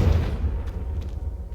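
The Confringo fire spell in Hogwarts Legacy goes off as one short, heavy explosive thump with a deep low boom, then fades into a crackling rumble.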